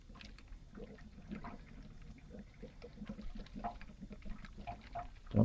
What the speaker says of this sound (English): Hear a lot of gurgling here.